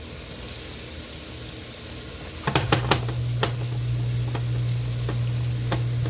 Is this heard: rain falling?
no